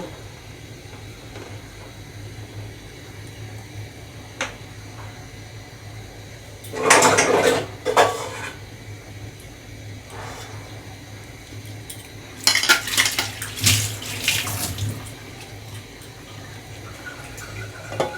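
Vegetarian khichuri with hot water being stirred in a cooking pot, two bursts of clattering spoon-on-metal scraping and sloshing against a quiet background hum.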